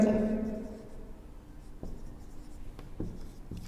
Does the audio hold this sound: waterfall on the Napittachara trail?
no